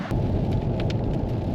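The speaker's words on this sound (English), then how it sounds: "It's raining all day." Steady rain pours down at a campsite in Tasmania, a constant dense broadband hiss filling the scene with a few brief brighter spatters, close and continuous, with no voices.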